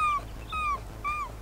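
A human voice imitates a dog's whimper with three short, high, falling whines in quick succession, close and fairly clear over a low background hum.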